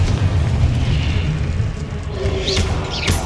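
Confringo blasting spell detonating in Hogwarts Legacy, a loud, deep rumbling boom that rolls on for several seconds, with a few brighter whooshes near the end.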